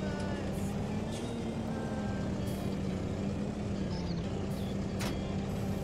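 A tractor drives in Farming Simulator 19, a steady low engine drone holding an even pitch throughout with faint higher blips above it.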